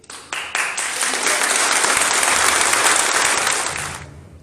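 Applause at a school ceremony with university and education officials present: a few separate claps at the start swell into loud, dense crowd clapping that holds steady, then stops abruptly near the end.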